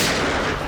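Gunfire in a shootout from the CID television crime drama: a dense, loud, sustained burst of shots with no pause, lasting under a second.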